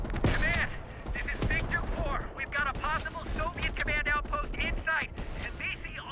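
Dense rapid gunfire in the video game Black Ops Cold War, with bursts of shots and heavy impacts crowding the whole stretch. Speech-like sounds mix in throughout.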